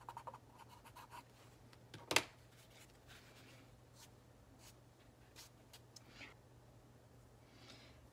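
An eraser rubs faint, soft scratchy strokes across charcoal on paper, with one sharper scrape partway through and quiet rustling around it.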